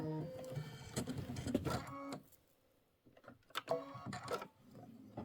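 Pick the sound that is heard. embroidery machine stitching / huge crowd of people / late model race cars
embroidery machine stitching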